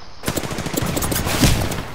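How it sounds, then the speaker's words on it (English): Rapid automatic gunfire from Apex Legends rattles loud and close in dense bursts, with overlapping shots and a heavier impact near the end. "why are they all shooting at me for?"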